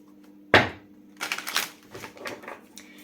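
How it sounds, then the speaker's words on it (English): Tarot cards being shuffled, a sharp initial riffle snap followed by a run of soft, papery flutters and slides close up, with no voices. "I also like to just shuffle right before pulling"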